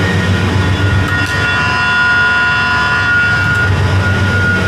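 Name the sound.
milking machine vacuum pulling milk on a dairy farm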